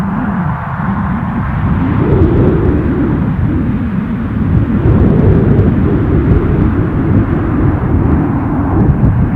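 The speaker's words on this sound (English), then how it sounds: "say goodbye to this Ryanair 737, shortly to wend its way to Alicante" A Ryanair Boeing 737 airliner readies to depart Newcastle airport, its jet engines giving a steady, loud, deep rumble that runs unbroken and slightly swells partway through.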